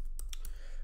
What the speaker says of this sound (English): I am typing my user ID and password.